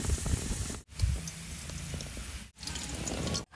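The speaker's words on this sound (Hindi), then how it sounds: "इसी तरह आलू को भी 5 मिनट तक भून लेंगे।" Potatoes frying in hot oil, a quiet steady sizzle and crackle with scattered pops, broken by two brief cuts to silence.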